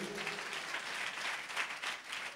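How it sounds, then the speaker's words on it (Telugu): A church congregation at a Sunday service claps together in steady, dense applause heard from a slight distance, without talking over it. "చప్పట్లు కొడదాం ఒకసారి."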